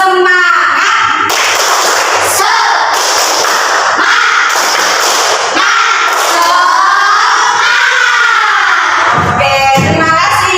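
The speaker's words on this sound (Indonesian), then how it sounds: "Tepuk semangat." A classroom of pupils at a madrasah lesson performs the rhythmic 'tepuk semangat' spirit clap, loud and sustained, with bursts of clapping and shouted chant filling the room for several seconds.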